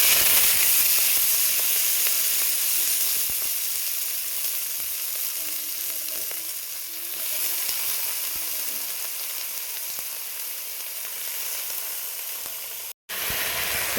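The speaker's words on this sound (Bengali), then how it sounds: "গাজর, পেঁয়াজকালি আর হচ্ছে আলু কেটে নিয়েছি, একটু ভাজা করব" Carrots, onion stalks and cut potatoes frying in hot oil in a wok, a steady loud sizzle and hiss that holds throughout with no talk over it.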